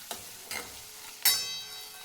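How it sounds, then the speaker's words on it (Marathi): Garlic and green chilli frying in oil for a cauliflower curry, heard as a faint sizzle broken by a few short stirring scrapes and one sharper clink near the end. "लसण आणि हिरवी मिरची टाकायची. भाजून घ्यायचे तेलामध्ये."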